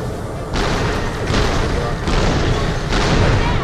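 Rocket launcher fire in Borderlands: The Pre-Sequel, a dense booming game sound repeating in roughly four heavy bursts, loud and continuous with no pauses between blasts.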